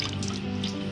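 Sniper insecticide being poured into water on a snail farm, a short continuous liquid splash and trickle, close and fairly loud, with no talking.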